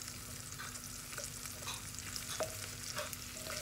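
An egg dish with salt, ginger and garlic fries in a pan while a spoon stirs it steadily, a soft continuous sizzle broken by faint scrapes and light clicks, no voices.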